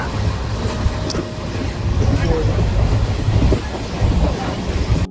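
A passenger train running along the line on the way to Rajkot Junction, heard from inside the carriage as a steady rumbling roar with clickety-clack wheel beats and a faint squeal, loud and continuous throughout.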